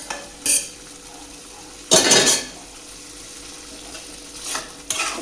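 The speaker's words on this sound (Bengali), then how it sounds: "তার মধ্যে আমি বাজিয়ে রাখা পটলটা দিলাম।" Pointed gourd (potol) tipped into spice paste frying in a pan, giving a loud sizzling, clattering burst of spatula and pan noise, with shorter scraping stirs before and after against a quiet background.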